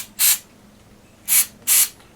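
Three sharp hissing bursts of cleaner sprayed onto the bearing area of a bathroom fan, one short spray followed after a pause by two quick ones, close and clear over a quiet background.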